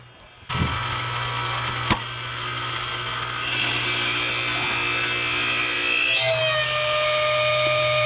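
A small second-hand log splitter working through firewood logs gives a steady, loud mechanical drone with a sharp crack near the start. The pitch of the motor shifts later on, and no one speaks.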